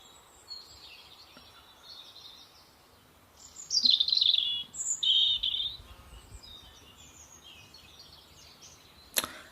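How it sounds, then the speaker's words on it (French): A recorded birdsong soundtrack plays during an Easter craft tutorial, with a few bright chirping phrases rising midway over a soft, hissy background, then a sharp click at the end. "je vous ai mis des chants d'oiseaux en bande sonore"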